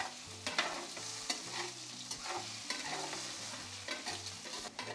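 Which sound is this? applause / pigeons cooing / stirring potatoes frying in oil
stirring potatoes frying in oil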